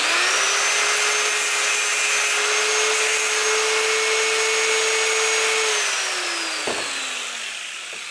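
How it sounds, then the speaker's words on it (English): A grinder whines steadily while removing burrs from a 1996 Trans Am brake line bracket, a loud sustained high-pitched tone that winds down in pitch near the end, with a brief knock just before it fades. "Be careful when you use these grinders."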